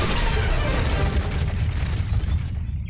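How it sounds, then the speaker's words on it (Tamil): A loud, broad explosion roars and rumbles, its noisy blast slowly thinning as it decays over a few seconds. "இது வெடிச்சிருமேடா"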